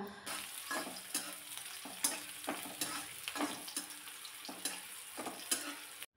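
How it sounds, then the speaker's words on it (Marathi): Chopped onion and garlic sizzle steadily in a hot pan, with a spoon stirring in regular scraping strokes roughly every half second, close and fairly quiet, with no voices. "लगेचच यामध्ये चिरलेला कांदा घालायचा, म्हणजे कांद्यासोबत अजून लसूण परतला जातो"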